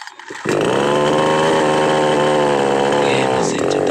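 A small chainsaw engine catches after a pull start, with a brief rough rustle before it bursts into a loud, steady, buzzing two-stroke drone that runs close and continuous to the end.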